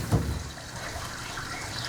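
Steady flowing water from a stream, played as a theatre sound effect in a stage production of The Giver, a soft continuous wash with a slightly louder splash at the start.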